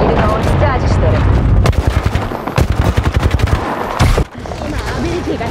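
Rapid automatic gunfire in the battle royale game Apex Legends, loud bursts of sharp shots in quick succession with booming impacts, under game voices.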